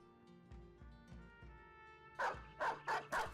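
A dog in the video game Battle Brothers gives four sharp, loud barks in quick succession near the end, following quieter rhythmic thuds and tones of combat.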